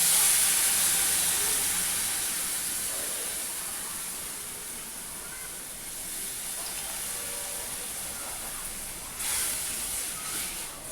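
Milk poured into hot ghee with roasted vermicelli, dry fruits and poppy seeds gives a loud steamy hiss that slowly fades, then swells again briefly near the end.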